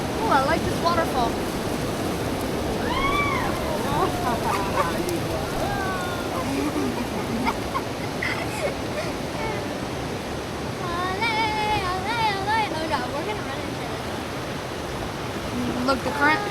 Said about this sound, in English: Oh, I like this waterfall.